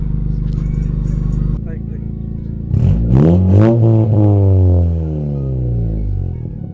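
A car engine with a possible blown head gasket idles steadily, then revs hard in several rising and falling bursts before settling back. The engine is close and loud, with a voice talking over it.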